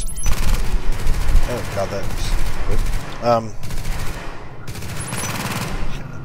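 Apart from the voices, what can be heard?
turret firing in a video game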